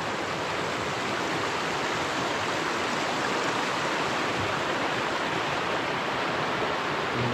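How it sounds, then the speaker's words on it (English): A small mountain river flowing just below a hut, a steady, close, continuous rushing and babbling of water with no voices. "here's the seed of the little river just down from the hut where you get the water"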